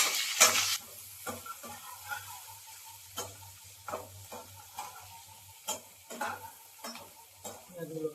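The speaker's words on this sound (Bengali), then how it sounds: "পেঁয়াজগুলোকে খুব সুন্দর করে ফ্রাই করে নিতে হবে।" Onions sizzling and frying in a pan while being stirred, a steady close sizzle with scattered scraping and tapping of a utensil against the pan.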